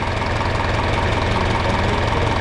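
A 1964 John Deere tractor with a power shift transmission runs at a steady idle, its engine giving a continuous, even knocking throb close by, with no talking.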